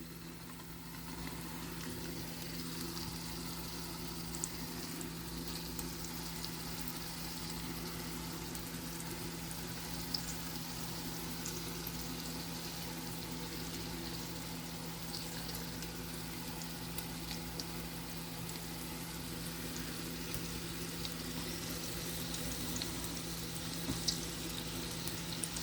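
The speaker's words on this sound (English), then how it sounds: "I'm going to get my second batch of meatballs in. Get those browning." Meatballs browning in a hot pan give a steady, even sizzle that holds at the same level throughout, with no talking.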